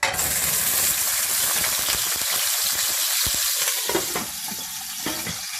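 Cut brinjal dropped into a generous amount of hot oil for Tamil ennai kathirikai curry sizzles loudly and continuously up close, with a crackling spatter and occasional stirring scrapes that ease slightly toward the end.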